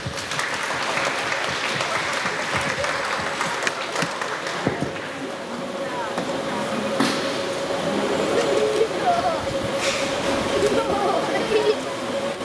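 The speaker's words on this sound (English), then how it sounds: "Let's give them a round of applause" An audience gives a sustained round of applause at a school concert, with dense continuous clapping throughout and chatter mixed underneath.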